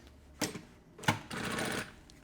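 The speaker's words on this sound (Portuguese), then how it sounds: "E aí, eu vou fazer aqui uma costura" A sewing machine stitches a puffer backpack strap in short bursts: two quick runs, then a longer steady whirring stitch lasting about half a second, fairly quiet and close.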